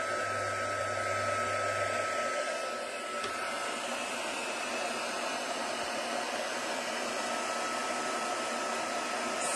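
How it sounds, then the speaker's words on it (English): A heat tool blows a steady, loud whooshing roar while it melts embossing powder on a stamped craft project. It runs without a break, with no talk. "I'm going to heat that embossing powder until it's nice and smooth and melted"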